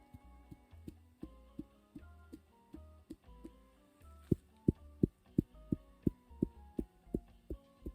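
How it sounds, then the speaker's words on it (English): A sheep wool fleece being ping tested, a rapid series of soft, low, resonant taps in a steady rhythm, quiet and close, with no talking. "when we ping test it, ooh, this one has a really good ping"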